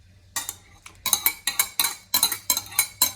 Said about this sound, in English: I have cooked jackfruit and I'm going to mix it here